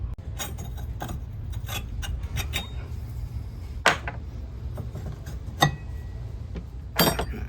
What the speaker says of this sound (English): Just remove this little C-clip under here.